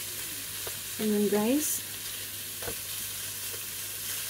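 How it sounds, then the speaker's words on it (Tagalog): Pork frying in a pan to render its fat gives a loud, steady sizzle throughout, with a brief spoken phrase partway through. "Palabasin muna natin ang kanyang mantika bago natin gisahin ang ating garlic at onion."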